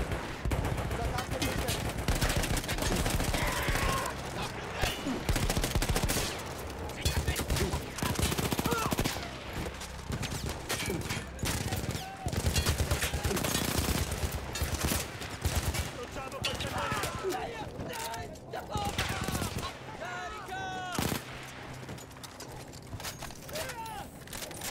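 Rapid machine gun fire in Battlefield 1, a World War I battle against Austro-Hungarian troops, comes in loud bursts and sustained streams mixed with battle noise, and people speak intermittently.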